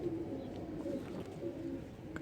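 An old flying pigeon being held in the hand gives a soft, low, steady cooing in two drawn-out phrases, close and fairly clear under faint background noise.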